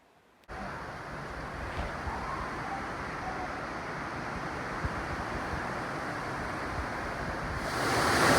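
Waterfall roaring inside a cave at Donut Falls, a loud continuous wash of rushing water that starts abruptly and swells toward the end.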